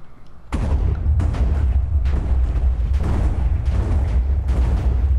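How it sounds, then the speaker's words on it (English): Chemical TNT from a Minecraft mod sets off a rapid run of loud, booming blasts, one after another, with no pauses and no voices. "Creates a bunch of explosions."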